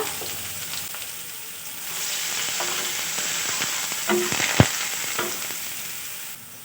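Chopped onion and garlic paste hit hot oil and sizzle steadily, the frying swelling louder after a moment, with a sharp knock or stir clink partway through and crackles throughout.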